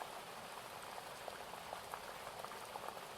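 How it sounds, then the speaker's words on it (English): Soft rain patters against windows in a quiet room, a faint continuous hiss dotted with small scattered drips and taps, without any voices. "The rain on the windows begins to soften."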